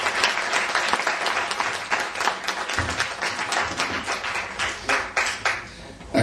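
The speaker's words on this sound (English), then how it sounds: "A round of applause." A wedding reception crowd applauds after a speech, dense steady clapping from many guests that carries on throughout without talk.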